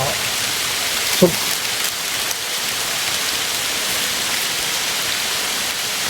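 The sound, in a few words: rain falling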